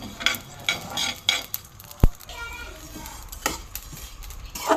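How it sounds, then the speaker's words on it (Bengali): Rice dry-frying in a pan, with repeated scraping stirs and clinks of a utensil against the metal over a low sizzle, plus one sharp tap midway. "এদিকে চাল ভাজা হচ্ছে।"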